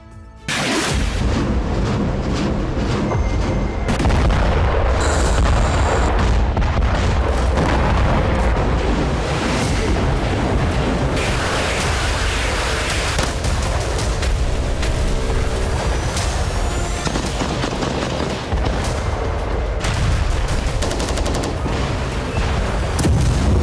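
Missile strikes and explosions in Russia-Ukraine war footage: loud, dense blasts and heavy rumbling roll on without a break for the whole stretch, with no voices.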